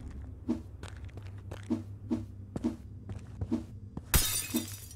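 Glass shatters in The Final Station with a bright, loud crash near the end, following a series of soft repeated thuds and footsteps over a low steady hum.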